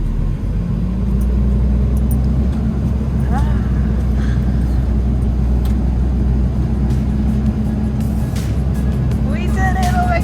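A Jeep engine revs loudly and steadily as its tires spin uphill on packed snow, a continuous close rumble with voices over it.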